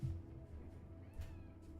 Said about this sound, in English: I heard a cat meow.